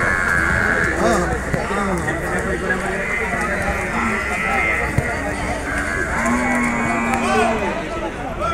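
Buffaloes at the Sunday buffalo market in Erragadda, with deep lowing calls rising over a crowd of people talking, animal movement and market bustle.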